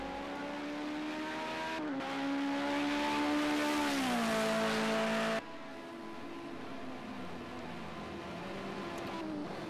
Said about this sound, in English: He's hitting the rev limiter up there.